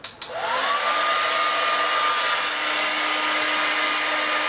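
A hair dryer switches on and blows steadily, loud and continuous, directed into a Singer 319K sewing machine to clean out its feet area, its whine rising then holding level.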